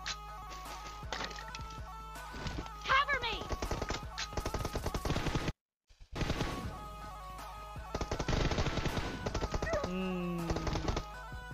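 Gunfire in a shooter video game between scout-type players, with bursts of rapid shots and single loud cracks. The shots come in clusters, a brief silence falls midway, and game effects and music sound throughout.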